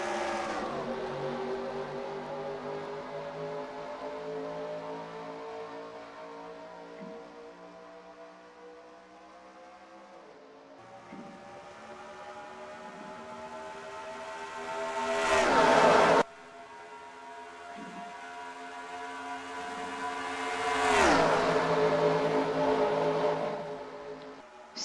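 Race cars accelerate at Charlotte Motor Speedway in the NASCAR Racing 2003 game, rising engine whines sweeping upward in pitch as the pack pulls away, with sharp pass-by swells and a sudden cut, loud and without talk.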